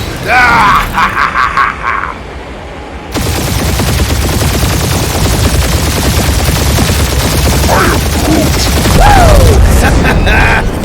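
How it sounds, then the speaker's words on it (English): Heavy gunfire erupts in a Guardians of the Galaxy video-game battle on PS5: a dense, loud, continuous barrage of shots and booms, with shouting voices and grunts over the fighting. "We're taking fire!"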